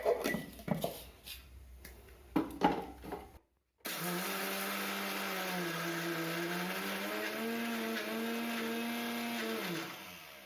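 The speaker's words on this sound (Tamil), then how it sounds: "இப்போது கடலைப்பருப்பை மிக்சி ஜாரில் போட்டு கொஞ்சம் கரகரப்பாக அரைச்சிக்கலாம்" A mixer grinder runs loud and steady, coarsely grinding soaked chana dal in its jar. A whining motor drone holds for several seconds and dips slightly in pitch as the load shifts. Clicks and knocks come first, then a brief silence before the motor starts.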